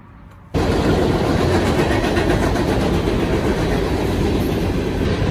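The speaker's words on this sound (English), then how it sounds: "Yeah, we've got a train." A loud, steady train roar with rhythmic rail clatter rushes in after a brief quiet moment and continues close by throughout, passing a remote creek campsite.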